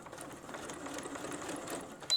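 A sewing machine runs steadily at close range, stitching a fabric seam with a short stitch length in a fast, even whir, ending with a brief louder burst.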